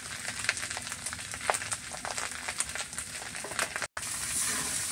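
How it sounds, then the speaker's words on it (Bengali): Leftover soaked rice and vegetables being stirred with sugar, salt, turmeric and pepper in a pan, giving a constant frying hiss broken by scraping strokes of a spoon, with a brief dropout near the end. "এবারে আমি এগুলোকে নেড়ে নিচ্ছি, তার সঙ্গে একসঙ্গে মাখিয়ে নেব।"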